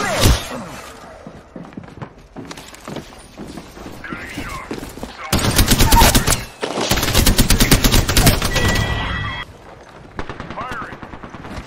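Automatic gunfire from an Apex Legends firefight, bursts of rapid shots rattling loudly with brief pauses between volleys, mixed with game sounds and a voice speaking over the action.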